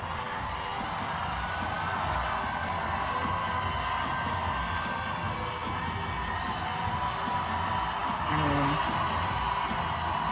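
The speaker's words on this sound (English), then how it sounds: "I just want to play this clip of Abigail Spanberger walking out to a very loud crowd tonight" A loud crowd cheers and whoops as Abigail Spanberger walks out at an election night event. A dense, sustained roar of many voices fills the whole stretch, with some shouts rising near the end.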